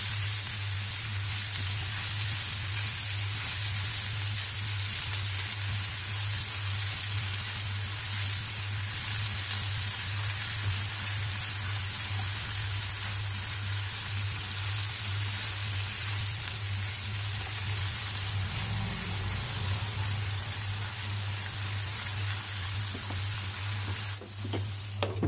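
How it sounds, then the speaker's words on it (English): Taro stolons frying in a pan over medium to medium-high heat, a steady dense sizzle with a constant low hum beneath, continuing evenly throughout. "In medium to medium high heat, fry this for 5 to 7 minutes."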